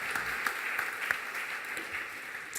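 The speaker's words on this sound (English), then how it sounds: "give them a round of applause" Audience applause at a rail freight anniversary panel discussion, a steady wash of many hands clapping at moderate volume with a few sharper individual claps, no one speaking.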